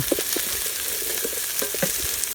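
Garlic frying in a pan while being stirred, a dense continuous sizzle broken by quick scraping and tapping strokes from the stirring, close and alone with no talk.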